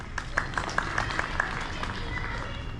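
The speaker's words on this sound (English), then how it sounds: "You should clap for yourselves for that." An audience at a Republic Day celebration at a Hindu temple claps steadily, a dense, moderately loud wash of applause with some tones and a voice underneath.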